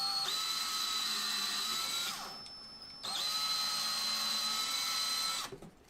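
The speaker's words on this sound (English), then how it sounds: "So I'll drill those out." A power drill whines loudly while drilling out back corner holes in a Voron V2.4 gantry part, running for about two seconds, pausing briefly, then drilling again for over two seconds before stopping, with no talk.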